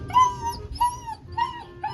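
A puppy whimpers in four high, wavering whines, close and fairly loud, each lasting under half a second with short pauses between.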